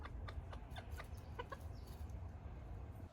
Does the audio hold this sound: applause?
no